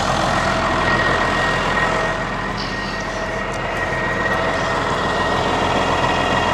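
Case Maximum 5140 tractor idling with its power take-off spinning, a continuous loud diesel drone with a steady mechanical whine throughout and no pauses or talk.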